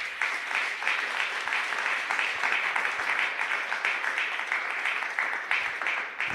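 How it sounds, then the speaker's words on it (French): A church congregation at a Sunday worship service applauds with steady, dense clapping that holds evenly at moderate loudness throughout. "Acclamons très fort la parole de Dieu."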